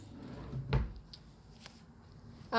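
A wooden dresser drawer in a Las Vegas Excalibur hotel room slides and knocks shut, one soft thud with a few light clicks in a quiet room.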